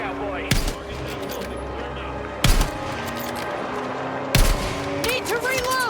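Heavy gunfire in the Battlefield 6 campaign, with three sharp close bursts of shots over a rumbling battle bed and voices talking in between.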